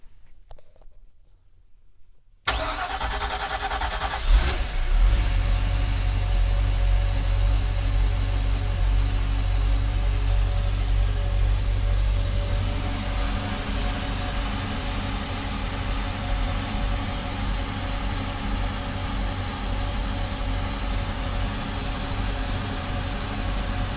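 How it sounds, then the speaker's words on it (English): The engine of a 2014 Chaparral 226 SSI Deluxe boat cranks and catches after a quiet start, then settles into a steady, close, loud idle with a low rumble that holds to the end. "very good sounding motor"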